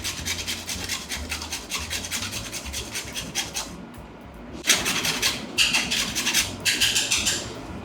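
Nutmeg rasped on a grater over bechamel sauce, rapid rhythmic scraping strokes in two bursts with a short pause, close and distinct.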